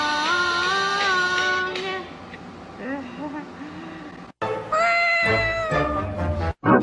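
Several high, wavering meows from a small cat, some drawn out and some short, with brief gaps of silence between bursts.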